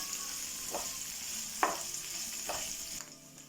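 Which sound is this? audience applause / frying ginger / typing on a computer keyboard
frying ginger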